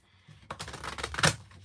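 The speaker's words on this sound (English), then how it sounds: "going to shuffle one more time." Tarot cards being shuffled by hand in a quick burst of crisp, rapid riffling and slapping clicks, close and alone, building to a sharper final snap.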